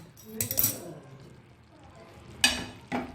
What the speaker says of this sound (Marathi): आता आपण भाजी हलवून बघूया